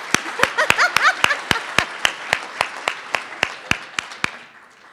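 A woman claps for herself at a state trooper and dispatcher awards ceremony, about fifteen sharp, evenly spaced claps near the microphone. A few brief voice sounds rise under the first claps, and the claps fade slightly toward the end.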